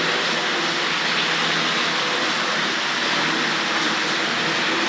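Morley Vanguard model train running on Super 4 track, pulling a car transporter, giving a steady, continuous, fairly loud whirring rumble throughout with no talking.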